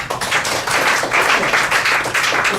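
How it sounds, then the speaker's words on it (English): Audience applause at an improvised one-woman comedy show, a dense, steady patter of many hands clapping together for a few seconds without a break. "Round of applause."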